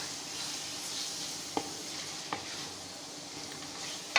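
Chicken frying in masala in a pan, a continuous low sizzle with a few distinct spatula scrapes and taps, fairly quiet and close, with no voices.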